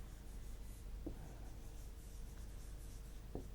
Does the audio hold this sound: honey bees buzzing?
no